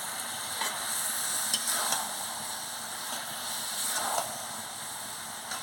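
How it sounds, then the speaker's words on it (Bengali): Grated coconut for coconut naru is stirred in a hot pan, a continuous soft sizzling hiss with faint scraping strokes of the spoon, close and even, no talking. "এবার আমি নারকেলটা দিয়ে দিচ্ছি। এই যে দেখুন, আমি ভালো করে এটাকে নাড়িয়ে নিচ্ছি।"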